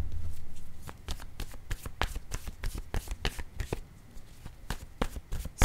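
A deck of cards is shuffled by hand, producing quick bursts of flicking riffles and sharp snaps at close range, irregular and crisp over a quiet background.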